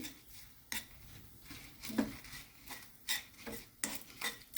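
Urad dal and fenugreek seeds being stirred as they roast in a pan, a spoon scraping and clinking against the metal in irregular strokes, close and fairly quiet, with no talking.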